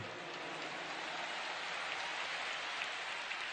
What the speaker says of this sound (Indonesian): Tepuk tangan buat semua yang hadir di sini